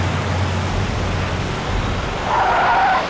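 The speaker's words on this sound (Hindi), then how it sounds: "सर गाड़ी रोकी सर।" A car skids to a halt on a road, with steady engine and tire rumble building into a louder, screeching skid near the end; no one speaks.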